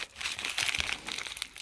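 A plastic bag crinkles and crackles continuously up close, with a bright burst in the middle as it is squeezed while waste is emptied into the trash in a workshop.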